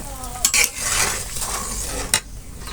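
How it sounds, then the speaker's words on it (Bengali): Fish go into a hot curry pan with vegetable stems and are stirred, giving a steady close sizzle with a few sharp utensil scrapes against the metal. "আমি এ পর্যায়ে মাছগুলো দিয়ে দেবো এর ভিতরে।"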